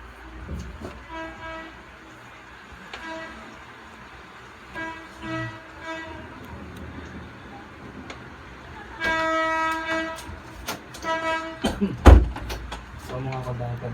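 A new PNR commuter train arriving at Muntinlupa, with horn blasts recurring and growing louder as it nears, and rail and car clatter rising toward the end while people talk nearby.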